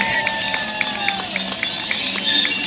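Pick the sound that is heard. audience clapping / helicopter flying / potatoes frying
audience clapping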